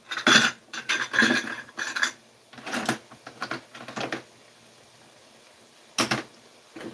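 Magnetic metal measuring spoons clatter and clink against other kitchen utensils in a series of sharp, close metallic bursts, then a pause and one last clack.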